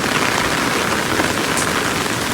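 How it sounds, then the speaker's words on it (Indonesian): Steady rain pours down in the Maldives, a dense, even hiss of drops hitting surfaces, loud and continuous with no wind gusts or voices. "Dan hujannya ini kayaknya bakalan awet banget teman-teman."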